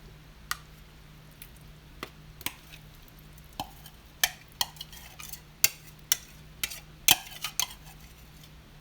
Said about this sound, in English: I've opened up some corn and some black-eyed peas that I had canned, and I'm actually going to add that.